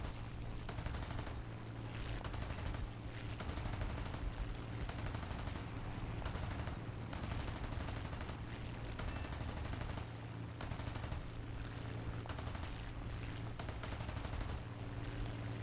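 Aircraft machine guns in War Thunder fire in rapid, sustained bursts over a steady engine drone, the rattling volleys pulsing in repeated clusters throughout, moderately loud.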